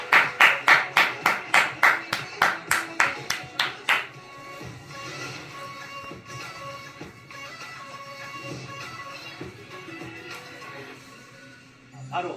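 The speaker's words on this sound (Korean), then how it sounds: "격려의 박수 부탁드립니다." Studio audience on a televised student quiz show claps in a burst of applause for contestants knocked out, loud crisp claps fading within a few seconds into quieter room ambience.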